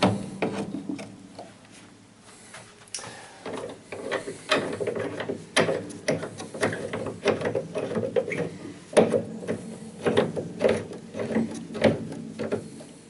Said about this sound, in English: I'll just do the action, screw the action into place